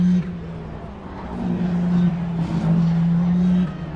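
Audi race cars drone past with a sustained low engine hum that swells and fades, while a crowd murmurs in the background.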